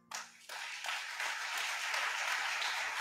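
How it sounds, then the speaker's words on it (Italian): An audience applauds a chamber orchestra from the Toscanini Conservatory of Ribera at an outdoor book event in a piazza, steady dense clapping that swells after a brief start and carries on alone. "Ancora un applauso, complimenti."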